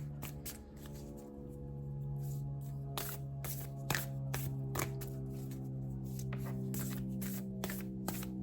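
Tarot cards are shuffled by hand in a series of crisp riffling bursts and soft slaps. The shuffling repeats at an irregular rhythm over a steady background hum.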